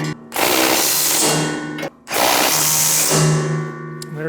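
A 3/4-inch socket wrench tightens bolts on a Muskoka snowblower's bottom auger assembly. Two long bursts of loud, continuous ratcheting clicks are split by a short pause, close up, with no talk.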